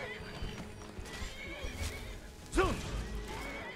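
A horse in the Skyrim video game whinnies once in a clear rising-and-falling neigh midway through, while hooves clip-clop steadily and other game noise and a faint voice murmur underneath.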